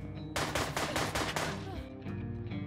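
Rapid SMG burst in the John Wick Hex video game, a loud close string of about half a dozen sharp shots fired in quick rhythm, then a quieter tail of game effects.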